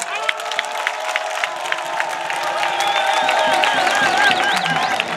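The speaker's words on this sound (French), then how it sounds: "Je vous demande d'applaudir pour eux" Crowd at a political campaign launch rally applauding, steady clapping that swells into louder cheering and shouts toward the end.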